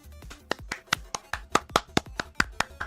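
Hands clapping slowly and steadily, about a dozen sharp, close claps in an even rhythm with short pauses between them.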